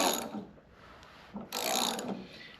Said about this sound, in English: we'll turn our motor over until we get our rotor